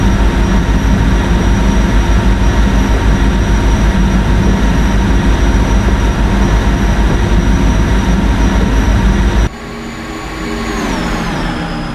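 A PRR V2 Santa Fe Express train in a train video game runs at speed with a loud, steady rumble that cuts to a quieter, thinner running tone with a rising whine near the end.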